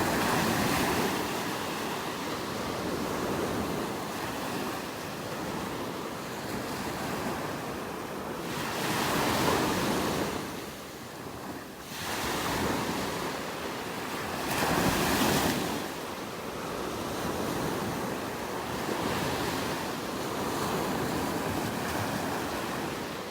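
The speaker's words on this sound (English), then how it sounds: "there's some big waves pounding here next to me" Big ocean waves pound a beach in North Naples, Florida, a loud, continuous surf roar with swelling crashes every few seconds and heavy wind buffeting the microphone, with no talk.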